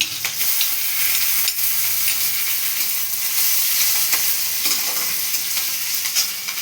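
Chopped ginger and green chili sizzle loudly in hot oil for a vegetarian tarka, a dense, continuous frying hiss close up with faint stirring scrapes underneath.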